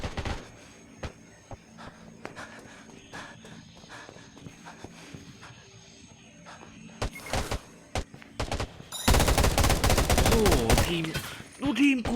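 Gunfire in the Undawn video game, a scatter of sharp shots through the first half, then a dense, loud burst of rapid firing near the end with game effects underneath.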